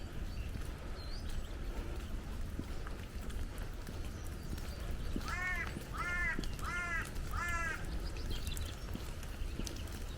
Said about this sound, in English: There's lots of birds coming out of the hedgerow.